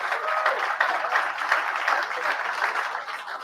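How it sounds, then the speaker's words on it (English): Live-training audience applauding steadily for about three and a half seconds, a dense, even wash of clapping from a room full of people with no pauses. "Give yourself a round of applause."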